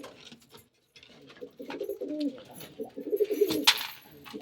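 Pigeons cooing inside a home, a series of soft, low throaty coos building in the middle and near the end, with a brief sharper rustle or flap, close and fairly quiet.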